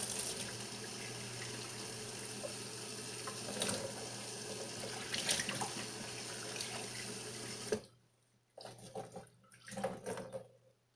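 Tap water runs steadily into a sink to soak a clean diaper for homemade gel ice, a loud continuous splash that cuts off abruptly, followed by a few short bursts of dripping and handling.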